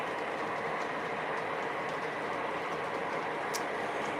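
An O scale model train runs steadily on its track with a constant, close rumble and faint rhythmic wheel clatter, and no voices are heard.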